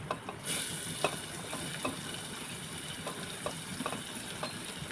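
Onion fries in oil in a pan with asafoetida, giving a steady, quiet sizzle broken by occasional soft stirring taps.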